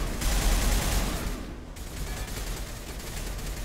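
Rapid gunfire from Mass Effect's Pinnacle Station combat, a loud, continuous volley of shots with a brief lull in the middle, no talking.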